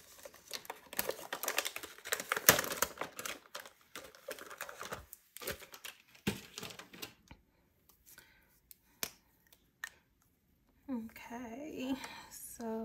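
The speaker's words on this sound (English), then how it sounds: "Let me just get a marker out to color those numbers in." A marker colors in numbers on cash-stuffing envelopes: close, scratchy strokes and small taps come in irregular bursts with pauses, and a voice speaks near the end.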